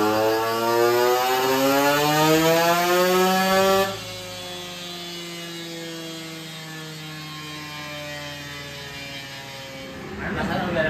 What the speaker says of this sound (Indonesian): Sekarang ninja nih dyno.